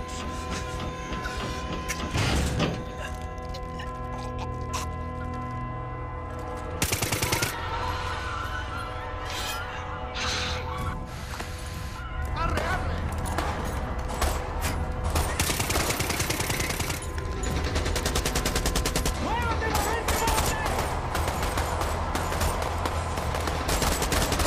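Dense, continuous gunfire and crashing combat noise from Far Cry 6 fills the whole stretch, with sharp bursts standing out over a busy, loud background.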